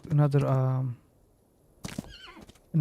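A horse in Grit, a Wild West battle royale game, gives a loud, close whinny lasting about a second, followed by quiet, then a few brief sharp game sounds and another burst at the end.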